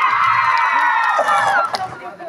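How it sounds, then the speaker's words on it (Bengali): Audience cheering in a loud, dense burst of crowd voices that fades toward the end. "এবার হাততালি।"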